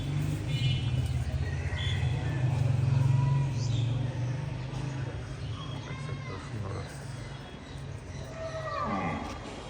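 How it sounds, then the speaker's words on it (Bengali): Cattle at a livestock farm bellow in a long, deep moo up close, with more lowing and shuffling farmyard noise behind, while people talk in the background. "এখানে আরো সুন্দর সুন্দর অনেকগুলো গরু আনছে।"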